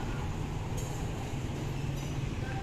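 The Jenggala passenger train rolls past near Mojokerto station in Indonesia, a loud, steady low rumble with occasional metallic clinks of the wagons and no talking.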